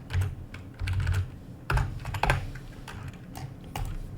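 Computer keyboard typing up close, with quick clusters of key clacks separated by brief pauses and a few sharper, heavier key strikes.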